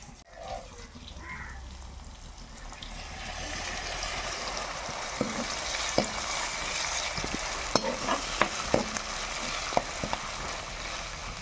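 Ginger garlic paste fries in oil with bottle gourd in a pan, a steady close sizzle with soft stirring clicks and scrapes building over the span, no talk.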